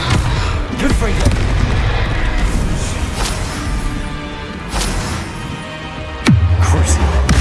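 Fiery Confringo spell blasts in the Hogwarts Legacy video game, several booming impacts spaced a few seconds apart over a constant rumbling battle background, with a sharp, loud burst near the end.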